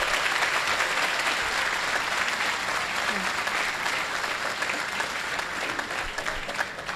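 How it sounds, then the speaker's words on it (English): Attendees at a freeway improvement project groundbreaking ceremony give a sustained round of applause, dense even clapping from a sizable outdoor crowd that runs the whole stretch without letup. "So if we could have a rousing round of applause."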